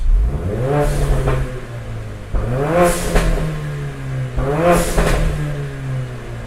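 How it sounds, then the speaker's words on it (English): A Mercedes-AMG CLA45 engine with an ARMYTRIX exhaust, valves open, revs hard three times in a row, each surge rising to a loud, raspy exhaust roar before dropping back to a rumbling idle. "By pressing the on button, you can hear how much louder it is."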